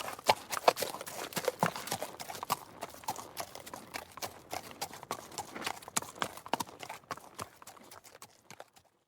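Horses walking on a hard surface, their hooves clip-clopping in a steady, irregular rhythm of sharp knocks throughout, fairly close, with no talk over them.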